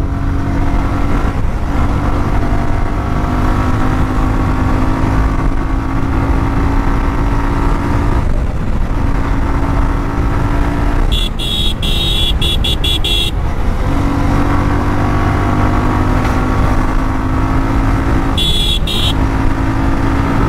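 A Suzuki Gixxer SF motorcycle drones loudly and continuously on a road, its engine hum steady under heavy wind rush, with two short bursts of vehicle horn honking partway through.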